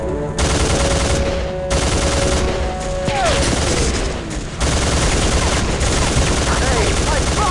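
Sustained automatic gunfire in the video game Soldier of Fortune 2, loud and dense bursts of machine gun fire rattling almost without pause, with a brief lull midway and game voices faintly mixed in.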